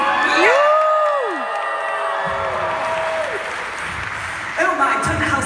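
An audience at a haunt-industry convention panel cheers and screams for the creative team, a loud crowd roar with whoops and shrieks rising and falling, while a voice talks over it.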